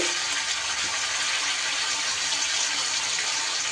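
Water pours steadily into a rinsed mixer grinder jar in a kitchen, a continuous bright splashing gush filling the whole moment with no talking.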